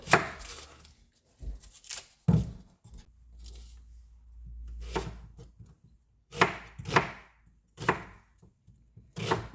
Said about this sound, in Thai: แล้วก็จะมาหั่น หัวหอม